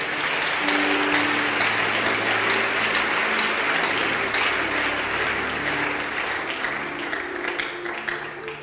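A church congregation applauds together in a large hall, a dense, sustained wash of clapping that holds steady and fades slightly at the close.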